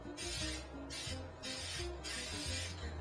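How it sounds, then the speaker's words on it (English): A spray paint can spritzes onto a wrapped present in four hissing bursts of uneven length, close and fairly loud, separated by short pauses. "just use a can of spray paint"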